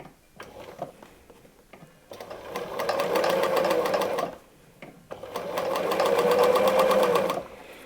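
A sewing machine stitches along a full length of fabric for a handmade origami Advent calendar, running in two sustained rattling bursts with a short pause between, close and loud with no talk.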